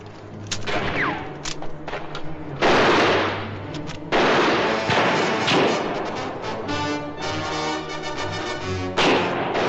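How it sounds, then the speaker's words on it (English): Rapid gunfire from a 1967 western battle scene, loud cracks and bursts in dense volleys, some sharp single shots standing out against a continuous rumbling clatter of firing throughout. "Find those guns firing!"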